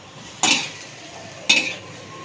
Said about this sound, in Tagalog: tuloy-tuloy lang ang paghalo hanggang medyo matuyo-tuyo na.